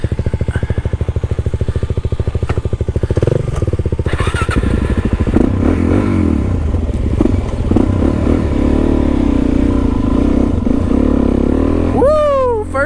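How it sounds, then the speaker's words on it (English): A Suzuki DRZ400 dirt bike ridden on a trail: a loud, close single-cylinder engine thumping at low revs, then pulling harder under throttle, with clatter and rattles over rough ground and voices talking over it. "First time on a DRZ."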